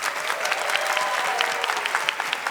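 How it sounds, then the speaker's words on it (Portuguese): A studio audience applauds a live band on a Brazilian talk show with a steady, even wash of clapping and no voices over it. "Vamos aplaudir nossa banda"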